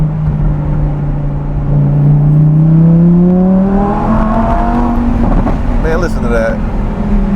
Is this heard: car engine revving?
yes